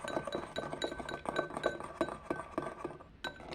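Egg yolks and sugar for a speculoos tiramisu being whisked in a bowl, a quick, regular clinking of utensil against the bowl, close and steady, then a brief pause before a final tap.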